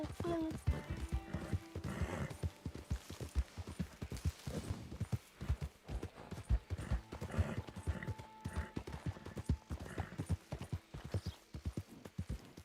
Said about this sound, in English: they're horses. Don't shoot the horses.